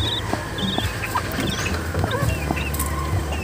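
Faint high peeps of newly hatching chicks from eggs in an incubator, short scattered chirps over a low background hum with occasional soft clucking.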